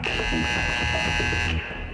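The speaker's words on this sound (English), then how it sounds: "The buzzer." A basketball game buzzer at a high school game sounds loud and steady for about a second and a half, then cuts off abruptly.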